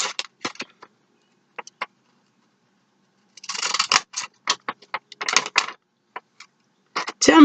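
Scissors trim a paper craft project with short, crisp snips, first sparse, then in denser clusters of quick cuts close by, with quiet gaps between and no talking.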